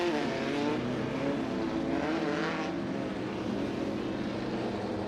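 Off-road desert race cars at a 2023 Great American Short Course event roll out onto the track, their engines making a loud, continuous throaty drone that holds steady and close throughout.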